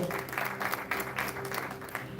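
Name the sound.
church congregation applause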